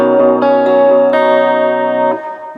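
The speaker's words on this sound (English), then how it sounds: "Reverb is not very intense, but you can hear that it has the spring part, but it has that little bit of a fluttery echo" Clean electric guitar through a spring reverb with a fluttery echo, a few sustained chords and notes ringing out with a soft trailing reverb tail, close and fairly loud, no voices.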